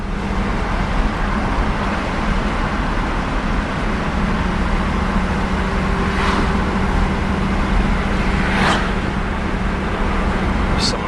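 A 1979 Hurst Olds driving on a road, heard from inside as a steady engine and road drone with a faint tonal whine, plus a few sharp clicks late on.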